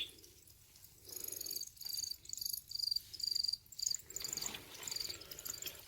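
Black field crickets in a reptile park enclosure chirp in short, repeated bursts, faint and high-pitched, with no talking over them.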